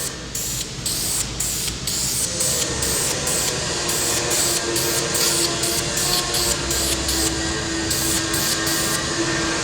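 Red oxide primer hisses out of a shaken spray paint can onto a door, a loud, close, steady spray broken into quick repeated bursts, with no talking over it.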